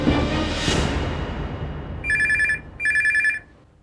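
A telephone rings in two loud, close bursts of bright electronic trilling with a brief gap between them, following a fading whoosh.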